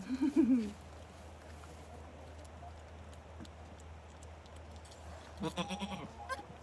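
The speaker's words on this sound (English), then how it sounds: "Don't you just love little goat voices?" A young goat bleats in a short wavering burst, then a quiet stretch of low background rumble, then another run of bleats near the end.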